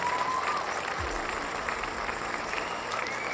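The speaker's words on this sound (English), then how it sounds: "So round of applause for Artific." Virtual-reality pitch event audience giving a sustained round of applause for a presenter, moderately loud, steady clapping with a brief voice near the start.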